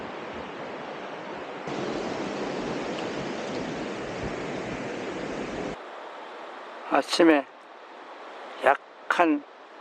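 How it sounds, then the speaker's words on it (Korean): Nakdong River running high after light drizzle along a trekking trail between Yangwon and Seungbu stations, a steady rushing water noise for several seconds that cuts off, followed by a few brief sharp sounds nearby. "황지에서 내려오는 낙동강물이 많은 양이 지금 흘러가는 강을 보고 있습니다."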